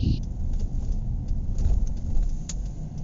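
Steady rumble of city traffic with cars passing along Chicago streets, heard from a ride, continuous and fairly close, with a brief bird coo at the start.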